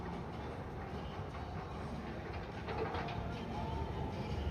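Nitro roller coaster train at Great Adventure rolling out of the station, a steady broadband rumble and rattle with faint clatter throughout, fairly distant and continuous.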